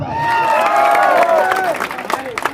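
A big outdoor crowd at an Adivasi Day tribal gathering in Nagri, Dhamtari roars with cheers and high whistles, then thins into scattered claps and shouts toward the end.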